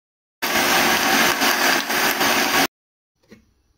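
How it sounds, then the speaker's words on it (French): A kitchen blender whirs loudly for about two seconds, mixing a chicken marinade for oven-baked chicken with alloco, then cuts off abruptly, followed by a faint clunk. "Je vais maintenant passer le tout au mixeur."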